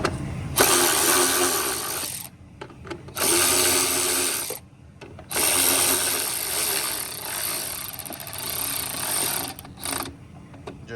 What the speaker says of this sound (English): All right, now I'm gonna tighten the top ones.